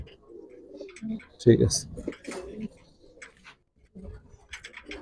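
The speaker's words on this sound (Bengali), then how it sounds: "এটা পাল্লা লাইনের কবুতর দর্শক" A Giribaz silver pigeon of pallah line coos in a few clear, throaty calls near at hand, with someone speaking briefly between them.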